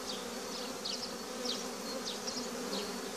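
Honeybees buzz around an open hive during a spring inspection, a dense, continuous close hum with individual bees zipping past the microphone now and then.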